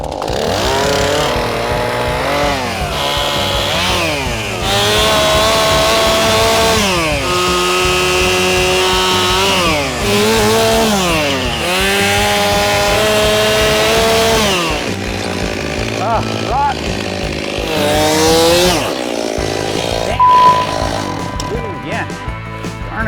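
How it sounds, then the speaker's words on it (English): A gas chainsaw roars and revs loudly up and down, its engine pitch climbing and dropping as it bites into wood, then idles near the end. "Let's hear it for a gas chainsaw."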